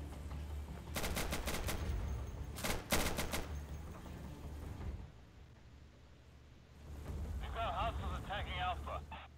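Suppressing gunfire in the video game Insurgency: two short bursts of rapid automatic shots in close succession, followed by quieter battlefield ambience with faint voice-like sounds later on.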